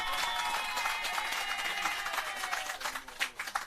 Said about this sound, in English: I think your Member of Parliament deserves another round of applause